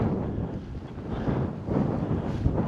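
Steady wind buffets a microphone outdoors during a windy grouse hunt, a constant low rumbling roar with gusty swells and no talk.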